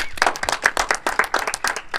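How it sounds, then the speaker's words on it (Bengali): A small group claps in quick, irregular bursts at a mock cricket gear auction, close and fairly loud, with a voice briefly audible. "হাততালি ভাই"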